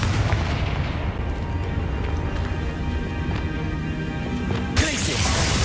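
A Confringo spell in the Hogwarts Legacy video game, a continuous dense barrage of loud blast-like bursts and crackling, ending in a sharp impact shortly before the close.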